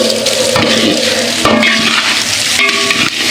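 Rice frying in a pan with bay leaf and five cardamom pods for Basanti pulao, a steady close sizzle broken by a few stirring scrapes against the pan, with no talking.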